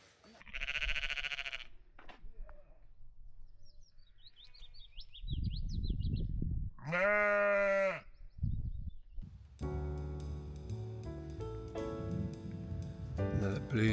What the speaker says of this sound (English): Hello sheep and baby lamb